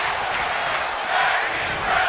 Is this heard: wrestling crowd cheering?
yes